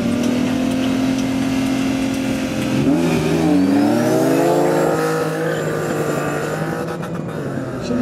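Turbocharged 2.5-litre BMW E30 race car engine at a racing start, a loud continuous drone with rising revs and pitch sweeps as it accelerates, steady and close throughout with no voices.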